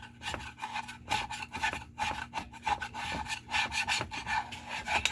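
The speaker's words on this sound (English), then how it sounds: "What I gotta do is I gotta get this glue off." A carpet knife scrapes old glue off a surface during a downrigger power cable kit installation, producing repeated short, close rasping strokes in an uneven rhythm with no talking.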